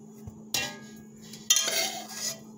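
Metal spoon scraping leftover cooked vegetable pasta out of a pot, two distinct scraping clatters, close and fairly quiet, with no talking.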